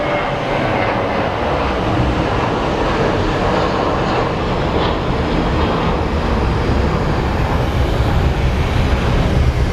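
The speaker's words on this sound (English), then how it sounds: "we have an A321 Neo that is departing for Honolulu" An Airbus A321neo jet departs an airport: a loud, continuous engine roar with broad rumble and hiss that stays steady and close throughout, no voices over it.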